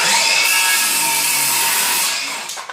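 Ridgid 18V GEN5X brushless 7-1/4 inch circular saw cutting wood, a loud steady high whine through the cut that fades as the blade spins down at the end.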